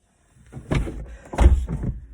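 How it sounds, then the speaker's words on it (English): A door opens up close with a couple of heavy thumps and a muffled rattle of the handle and frame, loud over a quiet room with no talk. "Hey, Darren, open the door."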